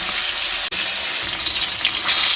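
Fish head frying in hot oil for a Bengali pea-greens dish, heard as a steady, dense hiss with one brief dropout near the start.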